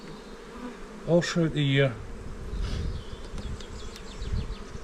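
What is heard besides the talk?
honeybees buzzing in a hive under a clear crown board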